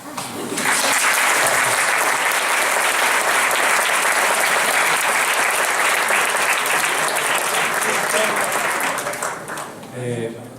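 Sustained audience applause after a type design talk at a conference, a broad, loud roar of clapping that swells in quickly, holds for several seconds, then fades near the end.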